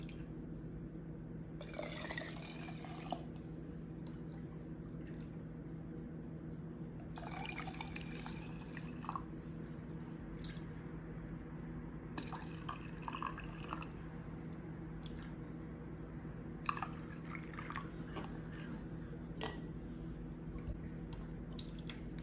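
Water poured into canning jars of beans ahead of pressure canning, several separate splashy pours and fills of a few seconds each, spaced apart over a quiet steady background hum.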